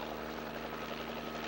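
A helicopter flies overhead, its steady droning whir holding at an even, moderate level throughout with no voices.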